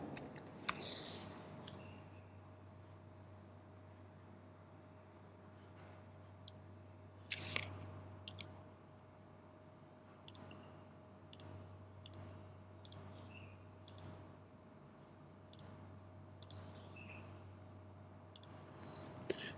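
Computer mouse clicking during AutoCAD drafting, sparse crisp clicks near the mic, sometimes single and sometimes in quick pairs, over a steady low electrical hum in a quiet room.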